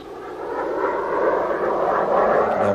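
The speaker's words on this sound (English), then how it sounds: "Slow rolls, high-speed passes, low-speed passes, and loops are only a part of the exciting exhibition flight Hoover puts on to demonstrate the versatility and capabilities of the Super Sabre" A U.S. Air Force F-100 Super Sabre jet fighter flying an exhibition demonstration, giving a steady, loud, continuous roar of engine and airflow that holds for the whole moment with no talk.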